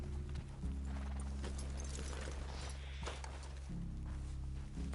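Horses' hooves clip-clop steadily on the ground in Red Dead Redemption 2, several animals walking together over a low, sustained rumbling drone with no speech.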